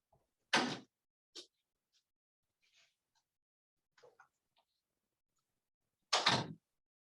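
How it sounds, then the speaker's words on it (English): Doors shut indoors in a training room, two loud, sharp broadband thuds several seconds apart with fainter small knocks and rustles in between. "I'm gonna shut the doors so I stop echoing back"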